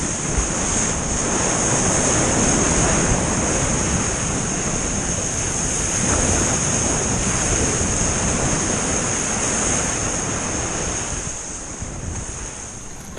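Ocean surf rolling around a surfer, a continuous loud roar of waves mixed with rushing wind noise on the microphone, with no talking.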